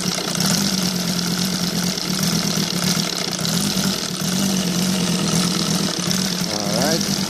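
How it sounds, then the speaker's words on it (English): An OS Sirius five-cylinder radial model engine runs on gasoline with spark ignition, a steady, loud, continuous buzzing drone close by that holds an even pitch throughout with no pauses. "So that is the engine running on gasoline."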